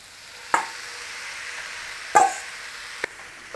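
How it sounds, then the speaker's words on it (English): Beef mince frying with tomatoes and onion for a keema beef pie, a faint steady sizzle broken by three sharp scrapes or knocks of a utensil in the pan, close by and without talk. "Start to break your mince up in there and cook that with your tomatoes and onion"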